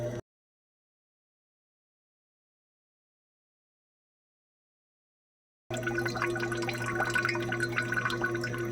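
Running water rinses chemicals off gold during refining, a steady close splashing flow after a brief burst at the start and a long silent gap.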